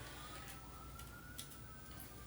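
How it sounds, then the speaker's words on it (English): Police sirens wailing far off downtown, a thin, faint rising-and-falling tone drifting under quiet background noise, with a few soft clatters nearby. "Sounds like the police downtown. I'm hearing lots of sirens."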